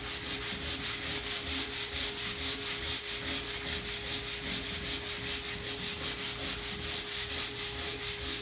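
Timber is sanded by hand to strip its top coating, a close, steady rhythmic rasp of repeated back-and-forth strokes with no talking.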